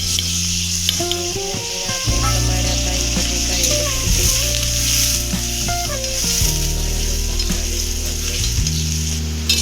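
Onions frying in a pan, a loud close sizzle with scraping stirs and shifting tones from the pan over about ten seconds.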